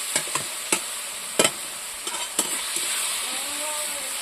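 Cooked patishapta filling being poured and scraped out of a pan: a steady hiss with a series of sharp clinking, scraping strokes spaced irregularly, then an even quieter hiss at the end.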